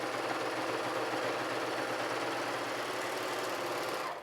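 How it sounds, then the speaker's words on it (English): A Pfaff Admire Air 5000 serger runs steadily for the whole stretch, a continuous even mechanical whir with a fast rhythmic chatter and no pauses. "you can bring it around and continue to run the serger"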